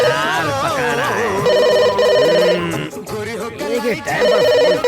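A telephone ringtone plays in a Hindi-dubbed action film scene, with a tonal electronic ring repeating in bursts and a voice talking over part of it.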